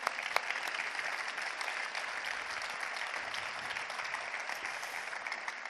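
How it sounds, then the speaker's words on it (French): Steady, even applause from an audience at a regional business awards ceremony for award winners and nominees, a dense continuous wash of clapping from a large crowd with no speech. "Je vous propose d'applaudir les lauréats de l'an dernier et les nommés de cette année par la même occasion"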